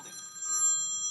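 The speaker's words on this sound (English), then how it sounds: "I apologize for the phone call." A telephone rings steadily with a bright electronic tone during a congressional hearing room session, heard alone at moderate level with faint room noise underneath.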